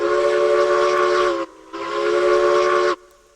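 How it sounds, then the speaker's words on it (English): Steam locomotive whistle in Railroads Online, two loud, sustained chord-like blasts with a short pause between, each cut off cleanly, close and with no voices over them. "Whistle by the way."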